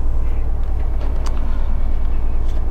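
A 2010 Thomas HDX school bus with an 8.3 Cummins diesel at fast idle: a steady, low engine rumble at a raised, even pace, with faint clicks and rattles on top and no talking.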